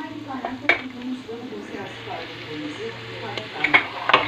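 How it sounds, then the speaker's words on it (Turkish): Meat and tomato paste sizzle in a pot for a white bean stew, giving a soft, steady frying hiss with a few sharp utensil clinks against the pot. "Onu da kavurdum. Salça koydum. Salçası da biraz kavrulsun diye bekliyorum."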